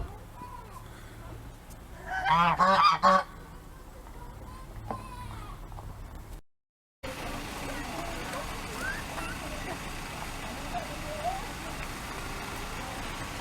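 Geese honk loudly in a short burst at a family outing spot near a turkey pen, with people talking nearby and a steady outdoor background hum before and after.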